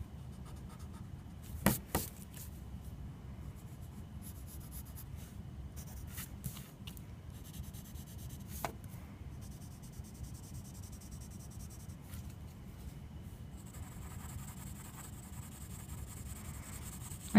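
A pencil shades steadily on paper while a woven ribbon is drawn, a soft continuous scratchy rubbing that runs the whole stretch, with a few faint taps and no speech.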